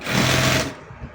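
A sewing machine stitches nightwear fabric in a single short, fast whirring burst at close range, then stops abruptly.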